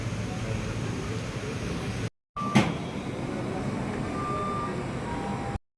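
A train at Shoranur railway junction in Kerala, a steady low rumble with a brief cut, a sharp clank and occasional faint tonal squeals, sounding close and continuous.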